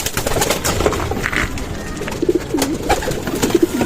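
Racing pigeons coo close by in a loft, giving soft, throaty, repeated calls over a steady background hum.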